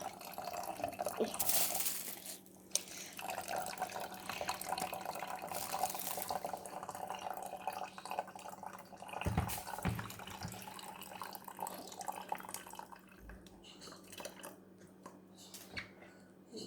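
Water is poured into a narrow-necked bottle while eco enzyme is being made, giving a continuous close gurgling splash with a few louder glugs and a low steady background hum.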